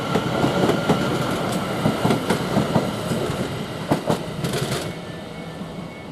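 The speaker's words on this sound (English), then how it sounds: "We've got a train passing through here for 720-552, which is the service which is 1345 from Southend Victoria towards London Liverpool Street" A Greater Anglia Class 720 electric train runs through Shenfield station, rumbling steadily with rhythmic wheel clicks over the rail joints, loud and near for several seconds before it fades away.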